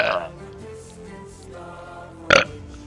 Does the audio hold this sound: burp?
yes